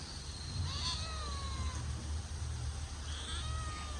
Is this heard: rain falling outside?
no